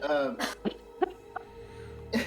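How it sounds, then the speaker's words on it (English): Several sharp coughs spaced out over a couple of seconds, with strained breathing between them, close and fairly quiet. "is just coughing and catching her breath"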